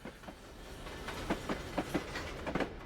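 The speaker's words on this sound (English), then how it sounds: "This one looks like a grain train." Grain train with a caboose rolling past on the Feather River Canyon route in a train simulator, giving a moderate, evenly spaced clickety-clack of wheels over rail joints with no speech.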